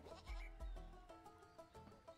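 A cartoonish goat in the video game Goat Simulator 3 bleats in a run of short, repeated cries with a rhythmic, stuttering pattern, fairly quiet and heard alone.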